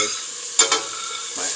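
Pepper, garlic and onion dropped into hot oil in a pan for arroz con pollo, giving a steady close sizzle with a couple of sharp clattering bursts as the vegetables hit and get stirred.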